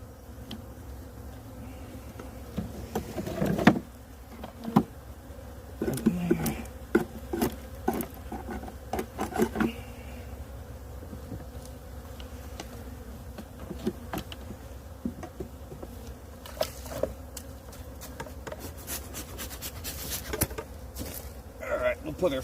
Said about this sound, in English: Good looking bees for this early in the season.